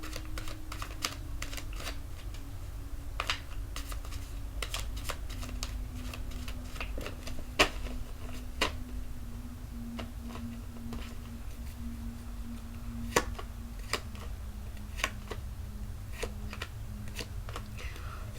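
Soft, irregular clicks and crisp snaps of tarot cards being shuffled, close by, over a low steady hum.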